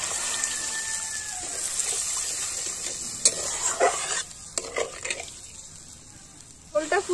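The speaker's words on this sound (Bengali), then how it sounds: "মশলাটা আমি ভালো করে কষিয়ে নিয়েছি, তেল ছেড়ে দিয়েছে, এবার দিয়ে দেব উষ্ণ উষ্ণ গরম জল।" Hot water poured into sizzling, oil-fried masala for a pointed gourd and prawn curry; a steady hiss of frying with splashing and stirring clatter, loud and close, with a sharper burst of bubbling near the end.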